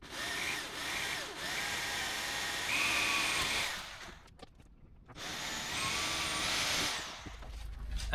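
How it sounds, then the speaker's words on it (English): A power drill with an 8mm bit bores a hole into the wood of a sailboat, giving a steady whining buzz that drops out briefly midway and then starts up again for a second run. "I'm going to use a 8mm drill bit, drill the hole, then fill it up with epoxy and then re-drill it at 6mm"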